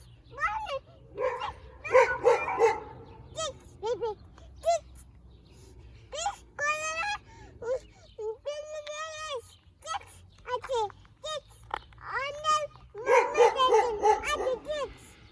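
A dog barks and yelps in short bursts in a park, mixed with excited people talking and calling out over it.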